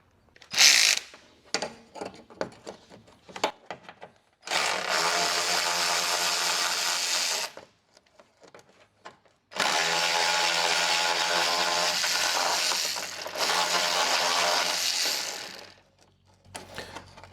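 Power tool working on 10mm bolts on a 2013 Honda Accord hood latch: a few short clicks, then two long bursts of steady whirring separated by a quiet pause, loud and close with no talking.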